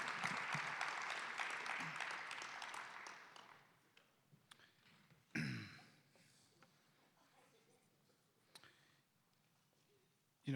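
An audience at a valedictorian ceremony applauds board reporters, salutatorians and valedictorians, the clapping loud at first and fading out after a few seconds into a quiet room with scattered thumps.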